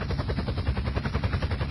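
A helicopter in GTA San Andreas, flown into a building, throbs with a fast, steady rotor chop, loud and close, with a rapid repeating beat and no voices.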